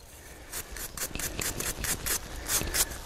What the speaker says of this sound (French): je vais sortir ma brosse et on va regarder ce qu'il en est